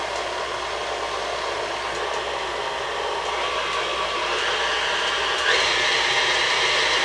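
An electric mixer beating orange creamsicle cake batter in a bowl, giving a continuous close whirring drone that steps up in pitch partway through, with no talk.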